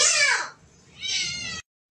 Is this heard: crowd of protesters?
no